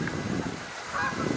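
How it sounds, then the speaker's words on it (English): Faint honking from a few geese in the distance, a couple of short nasal calls over quiet outdoor background. "Oh, some geese."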